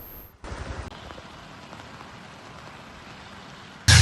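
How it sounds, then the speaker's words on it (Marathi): Heavy monsoon rain in Raigad district, Maharashtra, pours down as a dense, continuous roar after a quieter opening, ending in a sudden loud burst of noise. "रायगड जिल्ह्यामध्ये आज सकाळपासून मुसळधार पावसाने हजेरी लावली"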